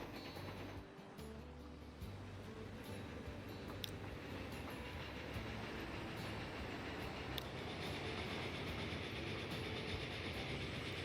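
A train runs along the track in the video game Transport Fever 2, giving a steady rumble with faint clickety-clack and no voices.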